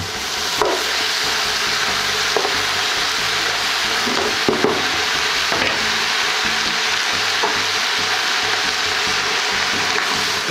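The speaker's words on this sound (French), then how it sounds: "Déglacer à ce moment-là avec un peu d'alcool, cognac, armagnac ou autre." Pan deglazed with cognac or armagnac while making a pheasant galantine, giving a steady loud sizzle and frying hiss throughout, with faint stirring scrapes and clinks on top.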